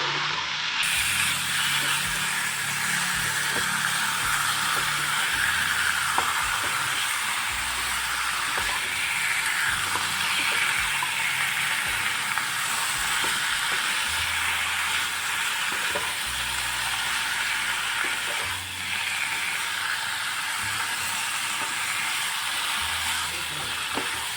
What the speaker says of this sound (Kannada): ಚೆನ್ನಾಗಿ ಮಿಕ್ಸ್ ಮಾಡ್ಕೋಬೇಕು ಮೀಡಿಯಮ್ ಫ್ಲೇಮಲ್ಲಿ ಇಟ್ಕೊಂಡೆ ಚೆನ್ನಾಗಿ ಮಿಕ್ಸ್ ಮಾಡ್ಕೊಳ್ಳಿ